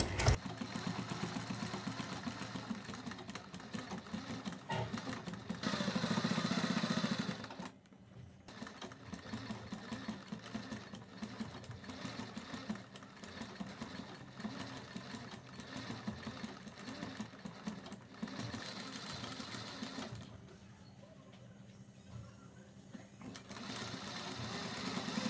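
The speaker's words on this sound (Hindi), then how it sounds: "और रखने के बाद इसके ऊपर भी हम कन्नी की सिलाई लगाएंगे।" Sewing machine stitching piping fabric for a neck design, running in long rapid whirring bursts with short pauses between runs, close and fairly steady.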